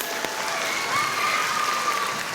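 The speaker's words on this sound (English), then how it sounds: "Give yourself an applause." A crowd at an elementary school ribbon-cutting ceremony claps steadily throughout, a dense even patter of many hands with no voices standing out.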